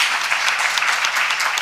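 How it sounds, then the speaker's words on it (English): Audience applause for the panelists at a UNFPA panel event, a dense steady clapping from a crowd that stays loud and even throughout with no voices over it. "A big round of applause to our panelists."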